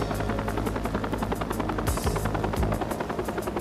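Firefighting helicopter in flight, a steady rapid rotor thump with a continuous loud engine whine, close and unbroken throughout.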